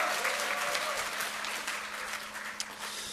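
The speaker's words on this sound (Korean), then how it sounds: "박수까지 치면서 함성 지르면 더 예쁜 사람이 되겠습니다" A lecture audience breaks into sustained applause, dense clapping from a large crowd filling the room evenly for the whole stretch, with faint voices mixed in.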